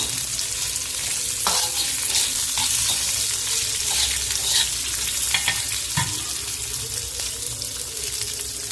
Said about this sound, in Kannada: ಈಗ ಈರುಳ್ಳಿ ಜಾಸ್ತಿ ಹೊತ್ತು ಹಂಗೆ ಹುರಿಬೇಡ್ರಿ.